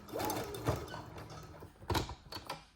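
A sewing machine stitching fabric with no stretching of the material, giving a close mechanical whir with irregular clunks and ratcheting bursts, and no voices.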